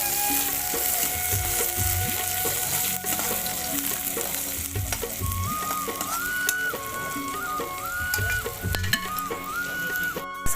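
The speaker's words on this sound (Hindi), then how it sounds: "अब हम डाले थे नमक प्याज संगवारी हो प्याज डाले के बाद" Onion and salt frying in hot oil, a steady sizzle with repeated stirring scrapes in the pan, close and continuous over a faint melody playing in the background.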